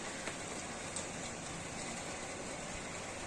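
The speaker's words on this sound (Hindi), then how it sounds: "जो नीचे वाला हिस्सा है उधर बारिश हो रही है" Steady rain patters and hisses continuously in Italy, with a few sharper drops standing out against the even wash.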